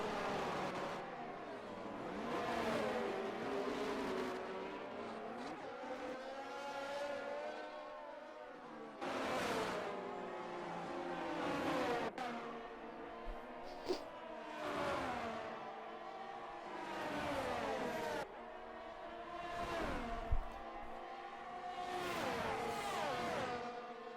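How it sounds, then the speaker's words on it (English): F1 23 race cars sweep past one after another during an Austrian Grand Prix sprint race in the video game, each pass rising to a whining engine peak and fading, repeating in a steady rhythm at a modest volume. "we're going to see cars going past him now"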